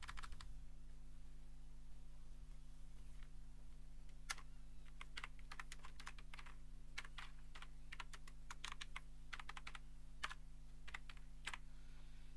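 Keys on a computer keyboard click in irregular bursts and short runs over a constant low electrical hum, quiet and close, with no voices.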